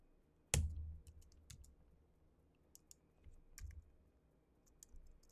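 Someone types on a computer keyboard while working in a terminal, producing a quiet scatter of sparse, light key clicks after one sharp thump at the start. The room is otherwise still and there is no speech.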